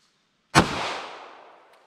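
A single sharp gunshot from a short-barrel .38 or 9mm handgun firing Underwood heavy ammunition. The loud crack is followed by a long echoing decay that fades over about a second.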